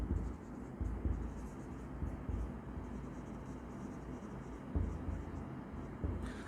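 Pen writing on paper during an accounting lesson, a steady scratchy rustle with small rhythmic strokes, fairly faint and continuous with no talk over it.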